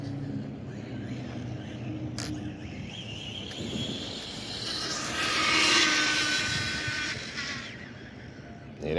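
Kyosho Fazer MK2 1970 Charger 1/10-scale RC car runs at full throttle, a rising whine that swells to a peak mid-run and then fades into faint outdoor background.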